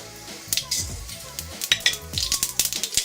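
Mustard seeds crackle and pop in hot oil in a pan, a busy scatter of sharp snaps over a steady sizzle, close up.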